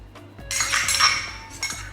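Cucumber salad with chopped scallion greens and dressing being tossed in a bowl, giving a steady run of light clinking and scraping of utensils against dishware for about a second and a half, fairly close, with no talking.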